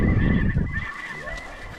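Snow geese honk during a snow goose hunt, with repeated high-pitched nasal calls over a low broadband rumble of wind or movement, heard without any talking.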